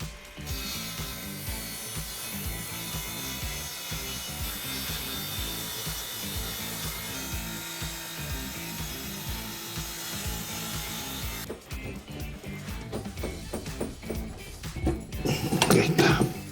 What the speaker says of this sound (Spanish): Vamos entonces con el corte con nuestra sierra Uberman.